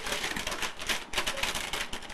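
Paper being ripped and torn in rapid crackling bursts, loud and close, with no voices.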